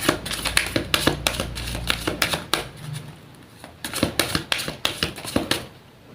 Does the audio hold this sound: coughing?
no